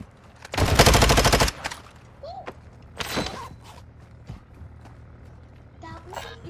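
A loud burst of rapid automatic fire in Call of Duty DMZ lasts about a second, followed by a second shorter volley and then scattered distant shots and small in-game noises.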